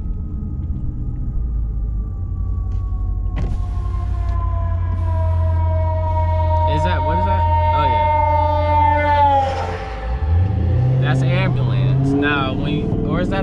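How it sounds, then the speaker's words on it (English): An ambulance siren wails through city streets at night, its pitch sweeping and later switching to a fast yelp, heard from inside a car over a heavy low engine rumble while people talk. "Bro, I think that's an ambulance, okay?"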